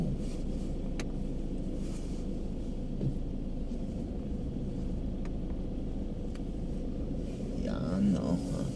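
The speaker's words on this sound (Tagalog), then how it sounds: "Traffic na guys." Steady low engine rumble and road hum from inside a vehicle stuck in traffic between Batangas and Mandaluyong, continuous and moderately loud, with brief faint voices near the end.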